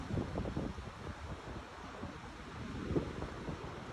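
Sea waves wash on the beach at Dipakulaw as a soft, continuous surf rumble mixed with wind buffeting the microphone, faint and distant, with no one speaking.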